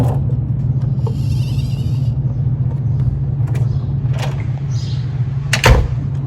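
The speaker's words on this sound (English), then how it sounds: "So you can check if the gate freely swings up and down." A Haven Gen4 gate assembly swung up and down on its hinge, giving a few sharp metallic clicks and taps over a constant low mechanical hum, with a louder knock near the end.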